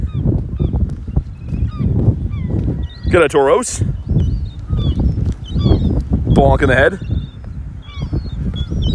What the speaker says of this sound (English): There's some birds in the background. They're cheering me on.